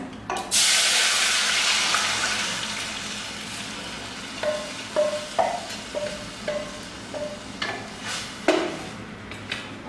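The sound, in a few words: rasam liquid poured into pan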